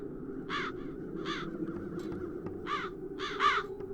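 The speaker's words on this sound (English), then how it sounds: "As long as the crows are wreaking havoc, nobody is admitted to the castle." Crows caw repeatedly in The Dark Eye: Chains of Satinav, several harsh raspy calls in short bursts over a low ambient drone.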